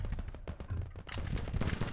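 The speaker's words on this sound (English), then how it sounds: "Cannons are still firing, we're retreating." Cannons fire in a Civil War battle in the video game Grand Tactician: The Civil War, heard as rapid, irregular bursts. The reports come quickly one after another, rather faint and distant, and grow denser toward the end.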